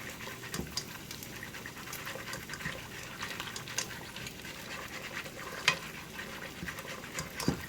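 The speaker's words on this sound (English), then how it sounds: "Now I'm going to add pepper. I'm going to whisk it in." Pepper being whisked into a pot of potato soup with the heat turned off: a faint, steady scraping and swishing of a whisk against the pot, with a few small clinks, no talk.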